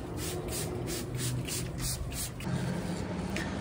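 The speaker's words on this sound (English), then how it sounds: "So all I'm doing is spraying the walls and the floor where the dust settles." A spray bottle mists walls and floor to settle dust before aerosol painting, giving rhythmic hissing squirts at close range over a constant background hum, with no speech.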